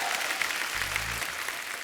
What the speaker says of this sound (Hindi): एक बार जोरदार तालियां जॉन और दिव्या के लिए।